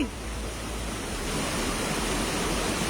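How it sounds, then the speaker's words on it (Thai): Floodwater rushes steadily into a house through a broken wall during flooding in Uttaradit, Thailand, a loud, continuous roaring wash with no break. "กำแพงบ้านบ้านพังจุ้ม ทีเดียวอะน้ำไหลเข้าบ้านเลย"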